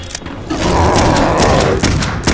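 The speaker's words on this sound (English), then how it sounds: "I don't know where that dog came from, but I think that's it. Oh, there is another one." A monstrous dog in Clive Barker's Undying lets out a loud, rough growling roar that swells and holds for about two seconds, close and heavy amid thudding game sounds.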